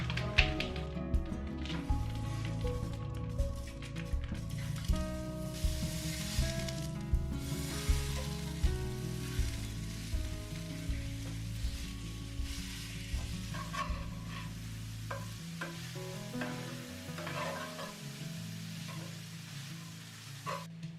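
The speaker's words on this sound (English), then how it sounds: "I just finished browning the ground sausage" Ground sausage browning in a cast iron skillet, a soft sizzle running beneath steady rhythmic scraping and clinking from stirring, with bursts of louder, fuller frying toward the end.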